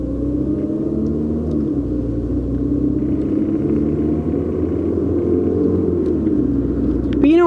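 A Mini Cooper driving, heard from inside as a steady low engine rumble and road drone throughout, with a voice talking over it near the end.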